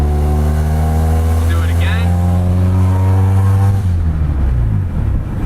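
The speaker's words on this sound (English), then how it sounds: "Get a nice braking going on there" A 1996 Honda Accord with Powerstop brakes drives and slows, its steady engine drone dropping in pitch as it brakes, loud and close.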